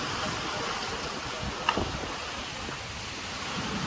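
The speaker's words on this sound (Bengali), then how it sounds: "ভীষণ বৃষ্টি" Steady heavy rain hissing across the whole clip during a storm that is breaking trees, a dense broadband wash with one brief sharp knock partway through.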